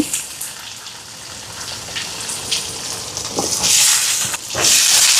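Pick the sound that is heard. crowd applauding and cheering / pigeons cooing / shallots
shallots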